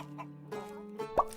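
A video game chicken gives a few short, close clucks in quick succession, clear and isolated.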